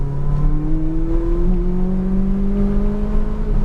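A McLaren 570S on a racetrack, heard onboard as the engine pulls under throttle, its rising whine and drone climbing steadily in pitch, loud and close throughout.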